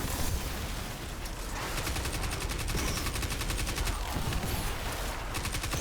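Dense rapid gunfire crackles continuously as a Guardian enemy is shot at in a video game, a loud sustained barrage with fast repeated rattling bursts.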